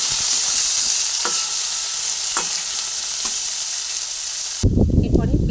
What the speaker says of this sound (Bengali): কিছু কুচানো পেঁয়াজ দিয়ে দিলাম সবজি একসঙ্গে এরপরে ভেজে নেব